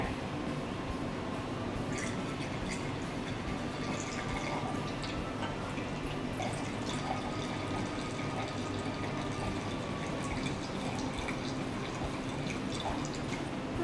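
Wine poured very slowly through cheesecloth trickles and drips steadily, faint and close, with scattered small droplet splashes and a soft background hiss, no voices.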